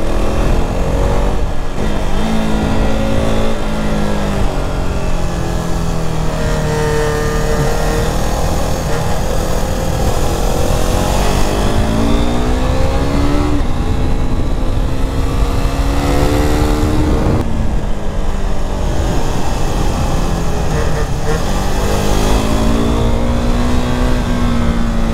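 A KTM RC 390 motorcycle accelerates hard through clutchless gear shifts. The loud engine climbs in pitch, drops briefly at each change and then climbs again, repeating over and over at close range with no talk.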